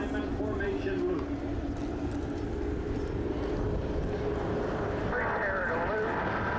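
AeroShell aerobatic team planes, North American propeller aircraft flying in diamond formation at the 2010 Dayton Air Show, give off a steady loud engine drone that continues the whole time beneath an announcer's voice.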